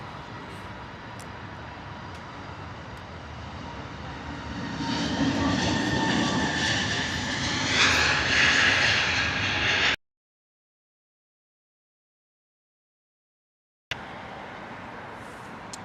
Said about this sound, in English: our next departure is going to be our 320 Neo from British Airways, slipping in just on going out to Glasgow